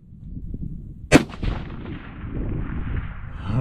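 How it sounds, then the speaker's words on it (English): A single sharp .25 Creedmoor rifle shot cracks loudly at a steel target, followed by a quick echo and a decaying rumble of outdoor ambience. "We'll shoot at some steel."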